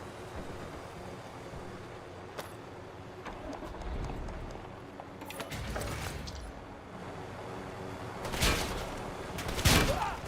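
Video game gunfire: a steady bed of distant shooting and rumble, with a few sharper reports and two louder, denser bursts near the end.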